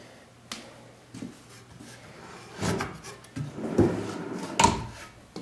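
Wooden drawers slide in and out of a newly built cabinet for an MC9 bus, several separate sliding rubs and soft thuds spaced across a few seconds, close and fairly quiet, with no talk.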